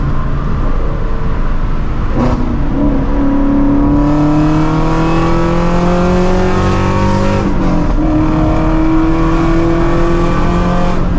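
A Shelby GT350 accelerates hard in a full-throttle pull, its engine note climbing steadily through the revs with a brief break at a gear change, loud and close from inside the car.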